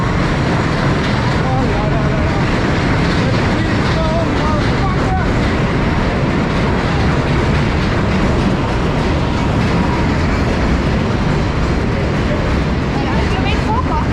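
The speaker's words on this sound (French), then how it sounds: "Le métro quoi." A New York City subway train rumbles past close by during the marathon, a loud continuous roar with rail clatter that fills the whole stretch, with speech mixed in.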